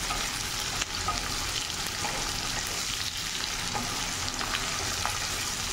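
Lote shutki, dried Bombay duck fish, frying lightly in oil: a dense, steady sizzle up close, with faint spatters and occasional stirring clicks throughout.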